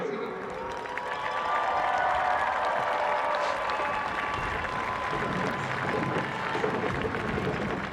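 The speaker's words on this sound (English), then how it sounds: "Fans, let's have another round of applause for your 2022 Division VI state runners-up" Fans at a 2022 Division VI state championship trophy presentation give a sustained round of crowd applause mixed with light cheering, heard under an announcer's amplified voice.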